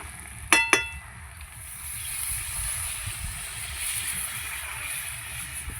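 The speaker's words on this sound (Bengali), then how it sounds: "এবার জল দিয়ে দিচ্ছি" Water is poured into a pan of sizzling spiced goat liver and fat curry after two sharp metallic clanks, leaving a steady bubbling hiss that swells and settles, close by.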